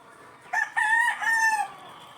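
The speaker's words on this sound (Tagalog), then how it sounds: "Sobrang magulo nga at maingay dito sa likod ng bahay namin kapag inaalpasan namin ang mga manok" Chickens and roosters making noise behind a house at a gamefowl breeding farm, with a rooster's loud, close crow stretched over about a second and a half, then quieter surroundings.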